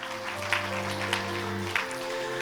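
Applause from a church congregation congratulating a member honoured for twenty years of service, an even patter of clapping beneath sustained musical tones.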